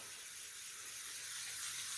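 Cooking spray hissing steadily onto a 9x13 baking pan, a continuous close airy spray lasting the whole two seconds and growing slightly louder.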